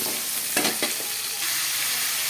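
Onions sautéing in a pan of oil with curry leaves for a crab curry, a loud steady sizzle broken by a couple of quick scraping stirs near the start.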